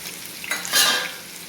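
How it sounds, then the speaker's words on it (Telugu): Boiled chicken liver frying in a pan with coconut and poppy seed paste and ginger-garlic paste, giving a soft, steady sizzle that briefly swells as it is stirred. "బాయిల్ చేసిన లివర్ని ఫ్రై చేసుకోవాలి."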